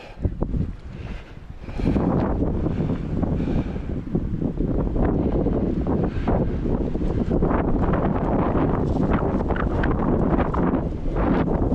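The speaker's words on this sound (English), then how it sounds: "Ooh, stiff wind, guys." Stiff wind buffets the microphone on an outdoor country walk, a steady loud rushing roar with gusty surges that persists throughout.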